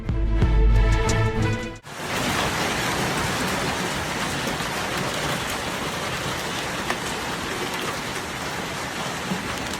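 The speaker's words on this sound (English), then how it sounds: "severe hailstorm" A severe hailstorm sets off a loud, dense, continuous roar of hail pounding on surfaces. It starts abruptly after a brief burst of other sound and runs steadily to the end with no voices.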